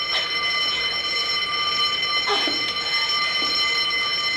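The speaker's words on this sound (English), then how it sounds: "You heard the fire alarm, so who's on fire?" A fire alarm rings steadily and loud throughout, a sustained electronic tone with layered harmonics, with brief muffled background movement underneath and no clear talk.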